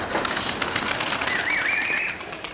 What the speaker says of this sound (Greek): έχουν βγει τα πουλιά.